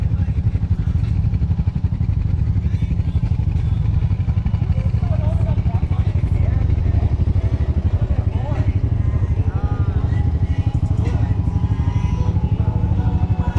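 A 2021 Honda Rubicon 520 ATV engine runs steadily at close range, a loud continuous low rumble with some clatter throughout.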